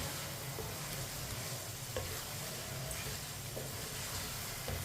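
Chicken and rice frying over high heat in a pot, a steady, dense sizzle that holds evenly throughout with a few faint clicks of a utensil, no voices.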